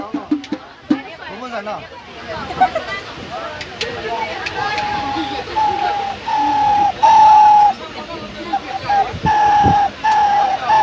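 A man imitates a pigeon's cooing with soft throaty coos that grow into a repeated, rhythmic series, backed by faint crowd murmur.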